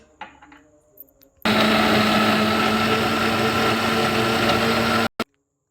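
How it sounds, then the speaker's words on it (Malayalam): A blender grinds muskmelon with milk and cardamom for a milkshake: after a few faint clinks it starts abruptly into a loud, steady whirring roar for about four seconds, then cuts off, followed by one short click. "ഇനി നമുക്കിത് ഗ്രൈൻഡ് ചെയ്തെടുത്തിട്ട് വരാം."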